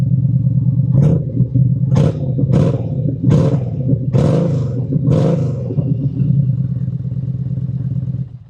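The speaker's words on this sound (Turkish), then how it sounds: "Bir de egzoz sesini dinleyin istiyorum." A Yamaha XVS 950 A Midnight Star cruiser motorcycle's exhaust revs in six sharp bursts about a second apart, each throttle blip rising over a steady, deep idle.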